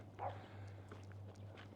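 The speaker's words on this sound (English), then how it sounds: "Little dog down there, I think," A small dog on a city street in Tucson, Arizona gives a short bark and a few faint yips at a distance, over a steady low hum.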